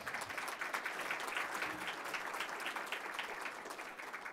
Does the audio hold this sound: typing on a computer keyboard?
no